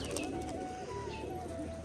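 Soft, low cooing from a black male Rajshahi pigeon, a continuous throaty murmur over faint background chirps.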